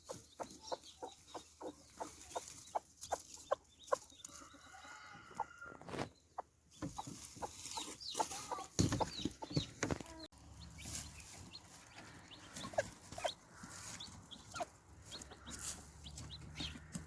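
Hens in a backyard coop cluck in a quiet, scattered series of short calls mixed with soft peeping chicks and rustling, faint and uneven, with a rooster-like call among them.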